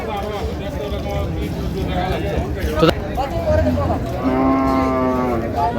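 Dairy cows at the Raniganj cattle market in Dinajpur moo loudly, including a long drawn-out call near the end, amid continuous crowd chatter and nearby talking.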